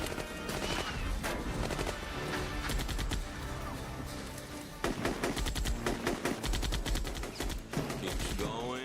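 Rapid bursts of video game gunfire shooting down bad guys, dense machine-gun volleys and scattered shots that build and intensify toward the end, with faint game sounds underneath.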